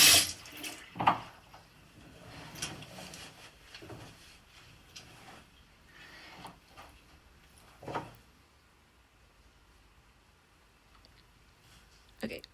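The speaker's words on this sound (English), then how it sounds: "I'm washing my hands now," Tap water running into a sink while hands are washed, soft splashing and trickling close by, interrupted by a few clicks and knocks, with no clear speech.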